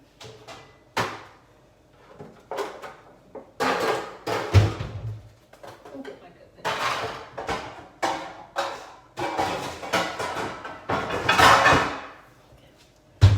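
Clattering and knocking of cookware being shuffled around in a kitchen while searching for a pan, with scattered bangs and scrapes at close range, some louder clanks near the middle and end.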